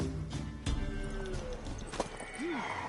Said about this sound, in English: Worthy of the best horse. The mare is yours.